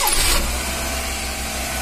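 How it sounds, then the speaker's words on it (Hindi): Maruti Suzuki Eeco van engine catching and settling into a steady running hum after a faulty fuel pump was fixed, a brief loud start followed by an even idle, no voices. "गाड़ी करते हैं स्टार्ट"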